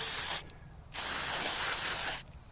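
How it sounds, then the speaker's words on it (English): Throttle body and air intake cleaner sprays onto a part from a 28-year-old Ford Ranger with carbon buildup, in two loud, close hissing bursts separated by a short pause. "clean it with some throttle body air intake cleaner"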